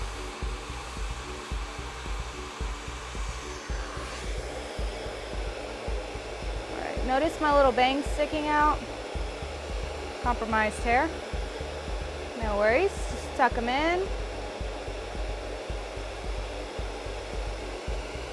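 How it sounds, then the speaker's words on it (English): A professional blow dryer runs steadily and loudly at close range as hair is dried, with a person talking intermittently over the constant airflow whine. "if you have a nice vent back here on your professional blow dryer"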